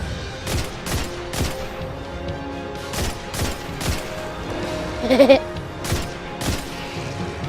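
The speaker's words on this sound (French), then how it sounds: "moi je tire dans le tas là" Gunfire from the player's weapon in a video game set on Titan, fired as sharp, evenly spaced shots, with a brief denser burst near the end.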